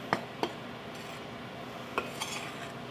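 Flour, salt and baking powder stirred together in a bowl for apple muffins, a few sharp utensil clinks against the bowl over a soft scraping background.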